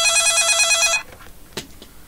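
Telephone ringing with a bright electronic trill that stops abruptly after about a second, followed by a few faint clicks and a soft knock in a quiet room.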